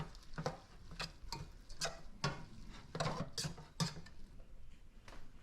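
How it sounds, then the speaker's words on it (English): Arugula being stirred into a hot pan with meat gives a soft, intermittent run of quiet scraping and ticking strokes with a faint sizzle underneath, close and low in level. "Now I'll mix in this whole container of arugula. It'll shrink down incredibly fast. And just keep stirring it."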